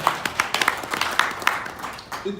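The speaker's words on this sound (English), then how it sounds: "So can we just give them a round of applause" Scattered, uneven clapping from a small graduation audience, a brief burst of hand claps that thins out quickly.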